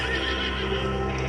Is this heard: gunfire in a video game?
no